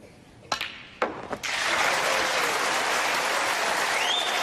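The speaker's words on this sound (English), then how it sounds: "And listen for the roar" A snooker arena crowd erupts as the final pink is potted to complete a century break, a few sharp knocks giving way to sustained loud applause and roaring that fills the hall.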